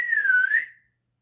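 A single clear whistle, one sustained slightly wavering note lasting under a second and then fading to silence.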